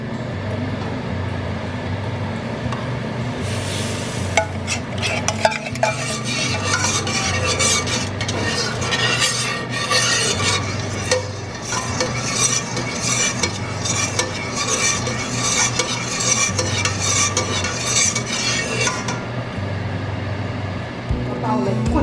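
Sticky rice cooking in coconut milk in a pan gives a steady close sizzle with frequent scraping and stirring strokes and occasional utensil clinks, while a voice talks over it at times.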